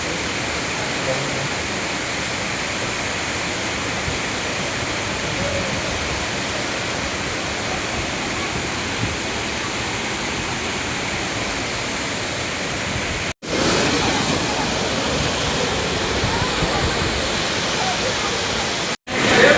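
A continuous rushing of a small waterfall at Thoseghar in the rain fills the whole recording, steady and fairly close, briefly cutting out twice near the end.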